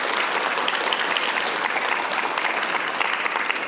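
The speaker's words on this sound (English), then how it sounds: "let's give the fathers in the room a hand" Steady, dense applause from a church audience in Huntington Beach honoring the fathers in the room, a continuous wash of many hands clapping with no voices on top.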